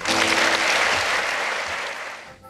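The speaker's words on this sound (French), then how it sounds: "je vous demande quand même de l'applaudir" A crowd at a film festival opening ceremony breaks into a short burst of loud, close applause that thins out slightly before ending.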